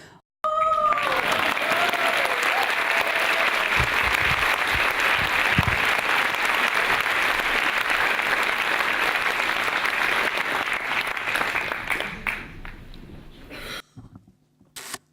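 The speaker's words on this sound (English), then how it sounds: "the only rule is that you have to clap as loud as you can" An audience at a PechaKucha-style talk night claps as loud as it can, a sustained and loud burst of applause that holds steady for over ten seconds before thinning out and stopping, with a brief tone near the start.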